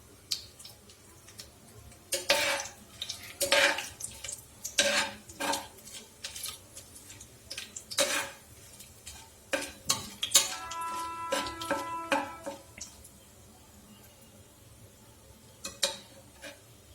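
A utensil stirs veg biryani ingredients in a pan, making irregular bursts of metallic clinks and scrapes over a faint sizzle, then tapering off.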